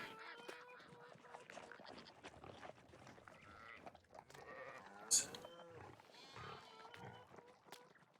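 Farm animals in Farming Simulator 19 make faint, scattered calls, with duck quacks among mixed livestock sounds, soft and intermittent against a quiet background.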